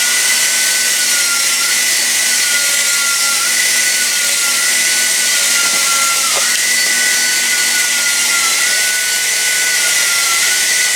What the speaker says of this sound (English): See how good that ground down?